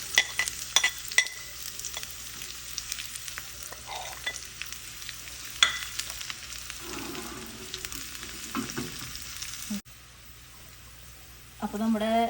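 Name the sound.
shallots, dried chilli and curry leaves frying in coconut oil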